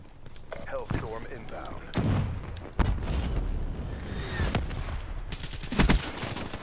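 Black Ops 3 gunfire sounds in scattered bursts and sharp reports among rumbling booms and game noise, with a player talking intermittently over the action.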